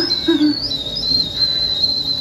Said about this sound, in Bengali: এখানে ইডলি স্টার্ট হয়ে গেছে, হুইসেল দেওয়া।